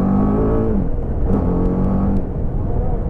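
A motorcycle that pulls hard, its engine droning loud and close for several seconds as it accelerates, the pitch rising and settling in a steady whine, with no voices over it.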